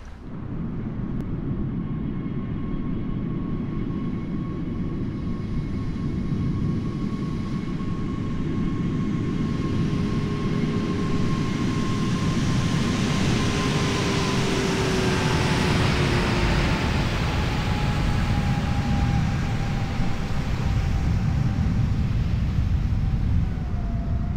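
A PMDG 777-300ER airliner lands at San Francisco in Microsoft Flight Simulator. A loud, steady roar of engines and rushing air runs throughout, with a faint tone gliding slowly downward and no speech.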